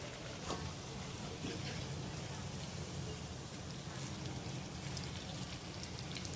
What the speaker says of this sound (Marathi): दोन्ही साईडने छान भाजून घेऊया